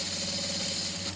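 A sewing machine hums and clatters in a short, even burst while stitching piping onto a blouse with scallop design, a close mechanical rhythm with no voices.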